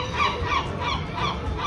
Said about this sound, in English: there were two seagulls that decided to have their own singing session for us.